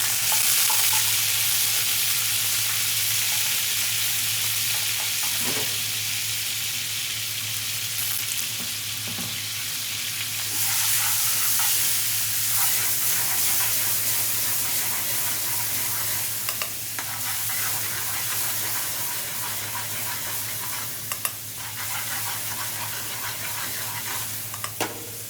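Grated onion fries in oil with popping mustard seeds and bay leaves, a sustained loud sizzle close up with occasional stirring scrapes and sharp crackles over a low steady hum.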